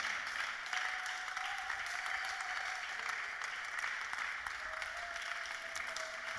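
A church audience at a Bible study gives sustained, dense applause that holds steady throughout, a crowd of many hands clapping together with a faint tone running underneath.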